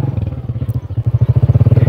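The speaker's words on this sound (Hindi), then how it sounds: "ये मैं बैठी हुई बाइक पे, और ये देखिए रास्ता चेक करें" Motorcycle engine chugging loudly and steadily up close as the bike rolls over a rough, uneven rural road, with a pulsing low throb and occasional clatter.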